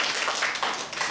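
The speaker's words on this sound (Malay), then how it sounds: "Tepuk tangan semua." A classroom of pupils clapping their hands together during a lesson, a dense, steady patter of many claps filling the whole moment at close range.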